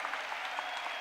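A short burst of audience applause at a large university student gathering, brisk scattered claps forming a steady patter at close-to-moderate loudness, with no talking over it.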